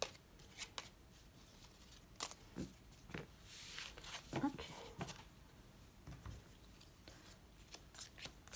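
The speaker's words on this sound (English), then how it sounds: "I need to be quiet now because I need to count my cards" Tarot cards are shuffled and flicked in quiet, scattered bursts of soft papery snaps and rubs while being counted, with brief gaps between strokes and a voice speaking faintly.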